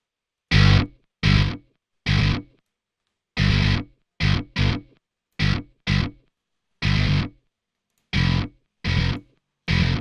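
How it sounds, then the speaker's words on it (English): Twelve short bursts of heavily distorted electric guitar, chopped chords with silence between, loud and close with a buzzy, saturated tone. "There's probably too much distortion for my taste."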